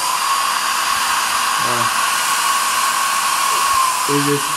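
Blower used as a heat gun to warm steel gun parts before applying Frog Lube, a loud steady fan-and-motor whir with a constant tonal hum, running throughout while a voice briefly murmurs beneath it.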